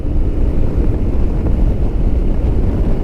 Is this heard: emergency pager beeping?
no